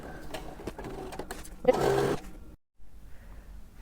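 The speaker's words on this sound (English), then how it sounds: "I am sewing right sides together, as you can see, right sides together for the side seams" A sewing machine briefly stitches the right-sides-together side seams of a waterfall jacket: a short, close burst of whirring over quiet room noise, followed by a sudden dropout.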